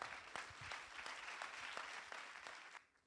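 A theater audience claps steadily to welcome an actress on stage at a film premiere, a dense, even patter of many hands that carries on without pause and then falls away at the end.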